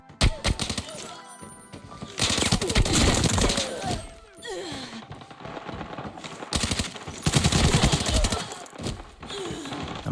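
Rapid automatic gunfire from an Arena Breakout firearm rattles in several loud bursts, separated by brief pauses with in-game movement sounds.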